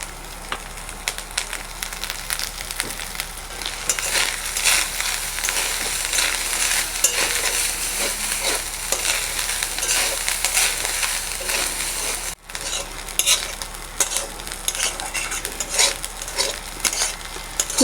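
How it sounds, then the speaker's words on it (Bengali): Grated coconut frying in oil in a pan for papaya pulao, giving a steady, dense sizzle with scraping stirs throughout, close and fairly loud, with a brief break near the end. "নারকেলটাও ভাজা হয়ে গেছে"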